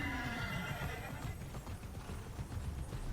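Horse whinnying followed by a steady run of hoofbeats in the video game Immortals Fenyx Rising, the neigh clear at the start and the rhythmic clip-clop continuing underneath.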